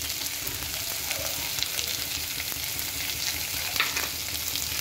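Potatoes and tomatoes frying in a pan for a spicy sabzi, a steady close sizzle with light stirring scrapes underneath, continuous and fairly loud throughout.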